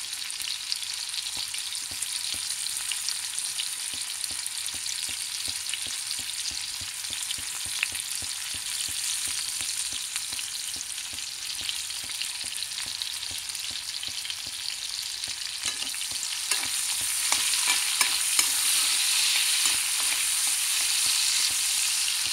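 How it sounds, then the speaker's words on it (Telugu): Onions sizzle steadily in a pan that already holds potatoes, with constant crackling and the scrape of stirring throughout, growing a little louder and brighter toward the end. "కొంచెం ఉల్లిపాయలు బాగా ఫ్రైగా వేయించాలండి"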